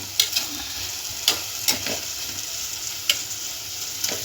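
A pan sizzles steadily as vegetables sauté, while a utensil scrapes and clacks against it every second or so, sharp stirring knocks over the frying hiss.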